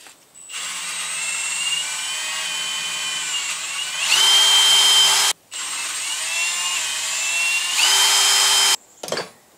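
A power tool grinds rust out of a 1959 GMC exhaust manifold with a high, buzzing whir. It runs in two long bursts separated by a brief stop, with a short final spurt, close and loud.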